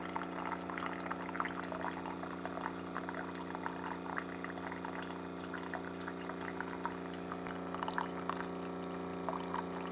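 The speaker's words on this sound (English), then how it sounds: "Cup's getting full." Water from a Keurig coffee maker under repair runs steadily into a cup, a soft continuous trickle over a constant mechanical hum from the machine, with no talk.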